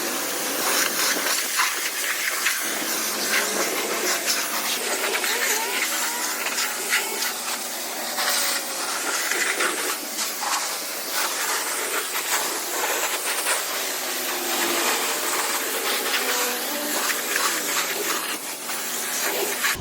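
Water spray rinses soap off a 2017 Subaru Crosstrek, giving a steady, loud hiss and rush of water that runs without a break for about twenty seconds with no talking.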